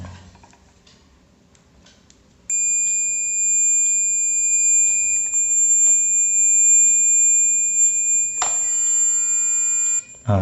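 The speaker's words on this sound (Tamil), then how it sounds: "பீப் சவுண்ட் வருது பார்த்தீங்களா," A steady electronic beep from a multimeter continuity test sounds continuously for several seconds against faint clicks and handling noise, then briefly changes tone before cutting off.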